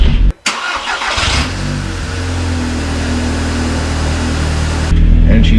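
Audi TTS engine cranking and catching, then settling into a steady, loud idle with a brief rev near the end, close up inside a garage.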